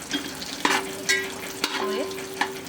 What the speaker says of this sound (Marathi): रोस्ट करूया तुपामध्ये हे पहा